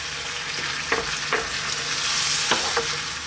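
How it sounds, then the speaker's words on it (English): Meatballs simmer in tomato sauce in a pan, a steady close sizzle and bubble broken by a few sharp scraping knocks of a spoon stirring through, no voices. "Give it a stir every now and then."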